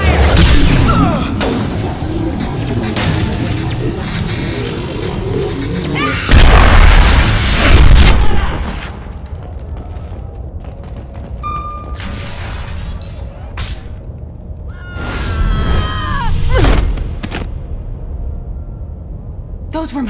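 A firefight in the video game Mass Effect 2 brings loud booming explosions and bursts of gunfire, swelling and fading in waves amid clanking mechanical effects, with characters speaking between the blasts.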